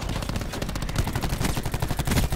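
Rapid automatic gunfire in an online shooter video game, a dense string of close, loud shots rattling on without pause.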